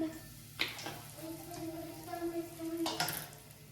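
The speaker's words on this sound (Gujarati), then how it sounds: "પછી આપણે નાખશું મીઠો લીમડો તે સૂકો છે પછી નાખશું આપણે હિંગ" Dried curry leaves and asafoetida frying in hot oil give a steady close sizzle, with two sharp utensil clatters along the way and a voice faintly present underneath.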